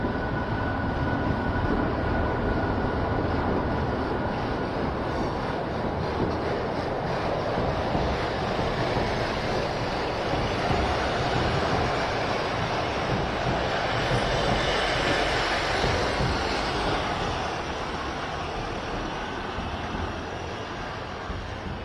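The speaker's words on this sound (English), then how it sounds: "There's a train just gone over my head" A steady, broad rumble and roar of a train crossing a railway viaduct close overhead near the Leeds railway station, sustained throughout and easing slightly toward the end, with no voices.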